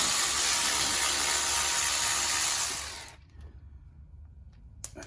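Ratchet turning on the front brake caliper bolts of a 2007 Ford Mustang, a loud, dense mechanical clatter for about three seconds that then stops abruptly, leaving near silence with a couple of faint clicks.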